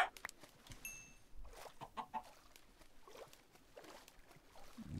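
A chicken in Minecraft clucks softly in a few short, scattered calls against a quiet background, fairly faint and with no talk.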